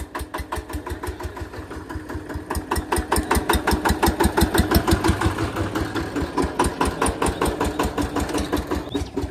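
A VST tractor engine runs close by with a rapid, even diesel firing beat that grows louder partway through and then holds steady at a throbbing idle.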